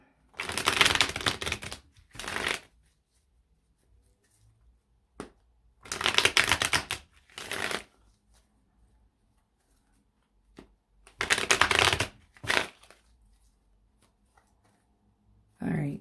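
Three bursts of a tarot card deck being riffled and shuffled, each lasting a second or two, separated by quiet pauses with faint taps.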